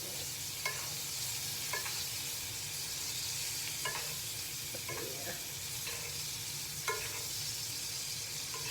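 A turkey burger sizzles steadily in butter in a pan, a soft continuous frying hiss with occasional light clicks of a utensil, fairly quiet and with no talk.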